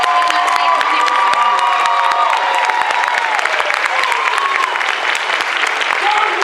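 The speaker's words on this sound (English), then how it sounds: "Let's have a round of applause for all of our contestants today." A loud, close crowd at a Sydney cosplay championship applauds and cheers the contestants, with continuous clapping, whoops and shouts layered together at an even level throughout.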